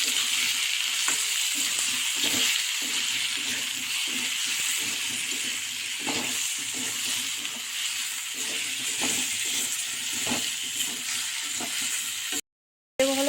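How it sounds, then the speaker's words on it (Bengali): Salted bhetki fish curry is stirred in a sizzling pan, with an even hiss of frying broken by regular, rhythmic spoon strokes close by and a brief dropout near the end. "এখন সুন্দর করে নাড়াচাড়া করে নেবো"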